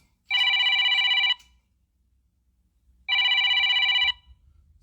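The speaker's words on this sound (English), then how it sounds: "Somebody's calling. I can't answer the" A telephone bell rings in two loud, steady bursts about a second long each, separated by a pause, with nothing else in the background.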